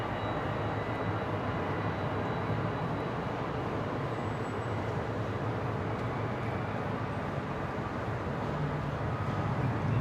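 A jet airliner taxis toward the runway at Brisbane International Airport, a steady, broad engine roar heard from a distance with no breaks.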